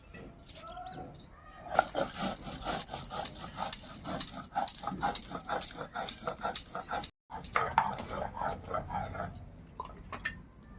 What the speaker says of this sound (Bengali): ততক্ষণ আমি পোস্ত আর এখানে শুকনো লঙ্কা নিয়েছি, এটাকে আমি বেটে নেবো।